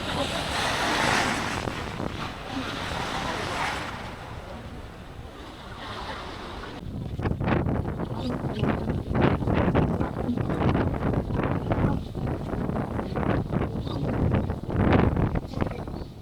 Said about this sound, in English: it's windy, but we're all tied up, nice and tight